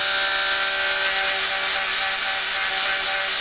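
A Dremel rotary tool grinds on a 1911 pistol, giving a continuous loud high-pitched whine up close at a constant speed, with no talking.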